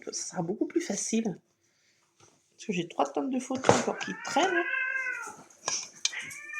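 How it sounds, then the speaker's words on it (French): A pet cat meows loudly indoors, several drawn-out, wavering cries close by, while someone speaks French before and over them. "c'est mon chat qui me fait la peur de ma vie"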